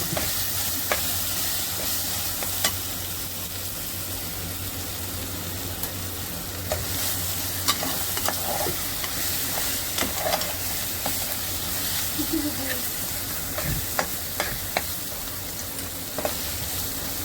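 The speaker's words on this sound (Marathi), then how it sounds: "थोडी हळद, आता हा व्यवस्थित परतून घेणार मी." Mutton mundi masala with turmeric sizzles and fries in oil in a pan, a continuous hiss with occasional scrapes and clinks of stirring, no talking.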